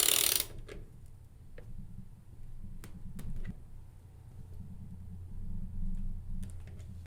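Bolts on a Minn Kota trolling motor yoke are snugged up with a wrench, giving sparse metallic clicks and ratcheting taps over a low background rumble, close and moderately loud.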